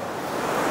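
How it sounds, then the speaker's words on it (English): Ocean waves surging against the rocks at Sunset Cliffs in San Diego, a steady, loud broadband wash of surf that swells slightly toward the end, with some wind rumble and no voices. "I want to capture the power of the waves hitting the rocks."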